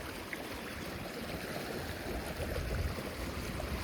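Water flowing in a village stream in the Konkan countryside near rice paddies, a steady faint rushing and gurgling with no distinct events, heard alone.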